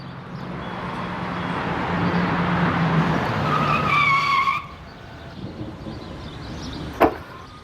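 A motorbike rolls up with a steady engine hum, a brief rising squeal and a sharp click as it comes to a stop, then quiet.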